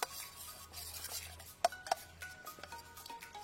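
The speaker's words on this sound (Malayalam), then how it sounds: "കോൺഫ്ലവർ പൊടി ചേർത്തതിന് ശേഷം നമുക്ക് ഇതൊന്ന് നന്നായിട്ട് മിക്സ് ചെയ്യാം" A spoon stirs cornflour into stock, making soft, quiet scraping with two sharp metallic clinks against the pot partway through. No voices are heard.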